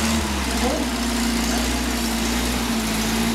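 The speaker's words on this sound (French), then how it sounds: "Ça fait un joli bruit de bateau moteur" A Simca 5 car engine running steadily at the stands, a continuous even low hum with a regular idle, close and alone without talk.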